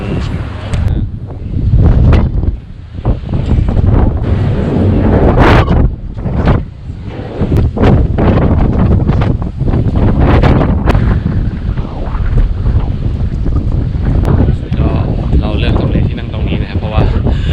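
Strong wind buffets the microphone on the open upper deck of a car ferry cruising near Bergen, a loud, constant roar with gusty surges that runs throughout, with brief talk in places.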